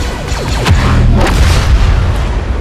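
Grenade explosions in Star Wars Battlefront gameplay boom loudly in close succession over a dense, continuous bed of battle noise and gunfire.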